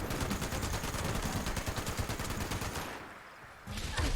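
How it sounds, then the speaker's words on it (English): Rapid automatic gunfire from a Mr. Gutsy robot in Fallout 76, a dense stream of loud shots that pauses briefly near the end before another burst starts. "I'm also getting shot by the Mr. Gutsy in the trees like a little jerk"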